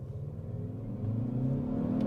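A Kia Stinger 2.0 Turbo under full-throttle acceleration, its engine note rising steadily in pitch and growing louder over a deep rumble, heard from inside the car.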